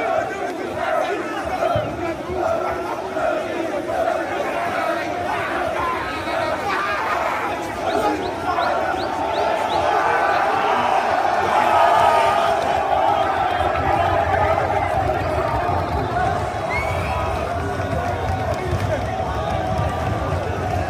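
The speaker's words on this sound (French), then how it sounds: "Donc là, on a une foule." A large gathering of football supporters in a city street, with a continuous roar of chatter, shouts and chanting voices blending into a loud crowd wash that swells toward the middle.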